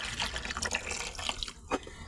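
Water pours and splashes into a bucket for washing two pieces of clothing, a steady trickling stream with a few brief drips, close and fairly quiet, with no talking.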